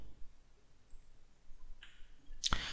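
Computer mouse clicks during data editing software use, a faint tick then a sharp single click near the end over quiet room hiss.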